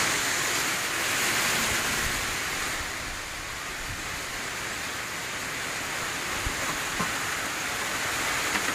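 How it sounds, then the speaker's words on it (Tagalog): Steady rain pours down outdoors during a Filipino home cooking session, a dense, even hiss that fills the whole stretch with no voices over it. "Sakto ang ulan."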